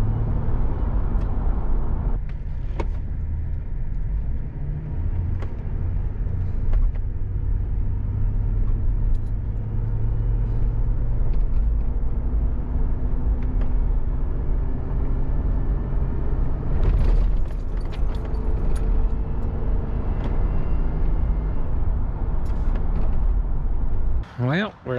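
A 2005 Chevy Trailblazer, left sitting for four days and with a transmission reluctant to shift into second, drives along with a steady low engine and road rumble. People talk over it inside the cabin.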